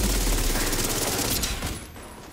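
Sustained rapid gunfire from a Striker build in The Division 2, a dense continuous volley at close range that holds steady and then tapers slightly toward the end, with no talking.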